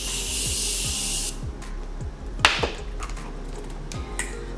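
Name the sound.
makeup setting spray being sprayed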